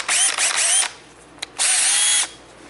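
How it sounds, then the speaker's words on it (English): Power drill at 1200 to 1600 RPM spinning a 3M sanding disc on a car headlight: two loud whining bursts of about a second each, separated by a short pause and a brief blip, close and without talk. "Mount the disc pad holder to a 1200 to 1600 RPM drill."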